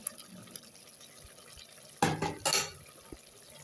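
A spoon stirs masala into mutton gravy in a pot, with faint background noise and then two short bursts of scraping and clattering just past the midpoint, no talk.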